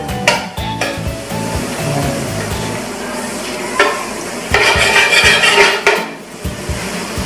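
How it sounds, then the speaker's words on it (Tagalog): Butter melting in a heated saucepan for no-bake mac and cheese gives a soft sizzle beneath frequent clinks and scrapes of a utensil against the pan, with a louder burst of frying midway. "pinainit ko muna yung kasirola and then ilalagay ko itong butter"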